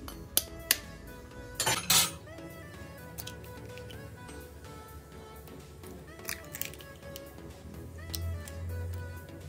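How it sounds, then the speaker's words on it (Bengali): Eggs cracked into a bowl and stirred for tiffin noodles: a few sharp clinks against the rim, then a quieter run of utensil taps and scraping against the dish, close and fairly faint. "এখন এর মধ্যে দিয়ে দেব 3টে ডিম।"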